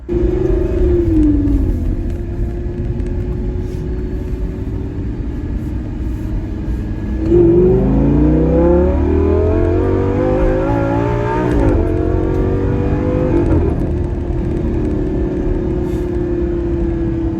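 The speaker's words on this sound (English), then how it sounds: "So I'm going to do one last acceleration right here." A 2012 Lamborghini Gallardo LP550-2 accelerating hard, its engine note climbing through rising revs in a loud, close sweep before settling back to a steady drone.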